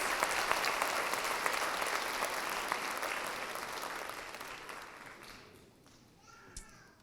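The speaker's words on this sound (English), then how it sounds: "Let's give all the contestants a round of applause." An audience applauds pageant contestants at the St Marys Summerfest Queen Pageant. The dense, steady clapping from a large crowd fills the room, then thins and fades away, leaving near-quiet with a couple of stray claps.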